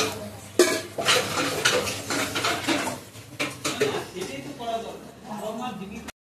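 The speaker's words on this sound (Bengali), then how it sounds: "এখন বড়া ভাজছে।" Vada fritters fry in a pan in a home kitchen. A soft sizzle sits beneath clattering utensils and stirring, with people talking over it throughout.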